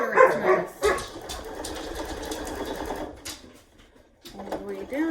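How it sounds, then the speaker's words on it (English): A sewing machine runs in a steady mechanical whir while stitching a curved seam, stopping and starting in short bursts, with a person talking over and between the runs. "I'm sewing a curved place. I want to make sure it's nice."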